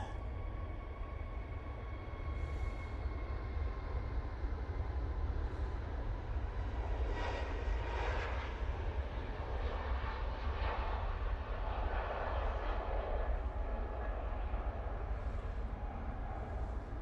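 Jet2 airliner climbing out at Manchester Airport, a steady broad engine roar heard from a distance that swells slightly mid-clip, continuous throughout with no talking.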